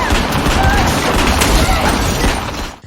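Gunfire in a horror thriller film comes as a dense, loud burst of rapid shots and booms over chaotic background noise, fading out at the end.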